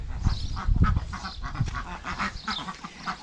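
Ducks in a garden quack and honk in a run of nasal calls, close and fairly clear, with a few louder bursts early on and softer calls following.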